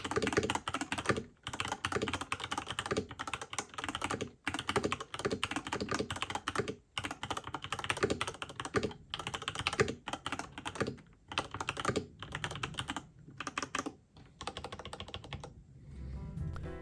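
Fast continuous typing on a custom mechanical keyboard fitted with PBT keycaps, a dense, deep clacking stream of keystrokes with brief pauses, close up and alone with no voices.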